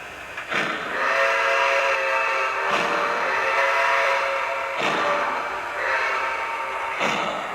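Lionel Vision Line Niagara model steam locomotive running on a layout at a train show, sounding four loud, close, sustained harmonic whistle blasts over a continuous hiss.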